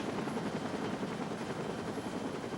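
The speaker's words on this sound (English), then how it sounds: "A Metro-Dade air rescue helicopter transported Pat to Mercy Hospital in Miami" A Metro-Dade air rescue helicopter drones steadily overhead, its rotor chop continuous and full, with no voices.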